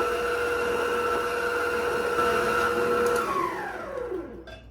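An electric stand mixer beats donut batter of flour and milk on low speed, giving a steady close whir that holds evenly, then slows and winds down at the end.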